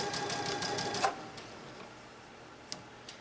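A home sewing machine stitches a quilt seam, a quick run of rapid needle ticks for about a second, then stopping, with a couple of faint clicks from pin handling afterward.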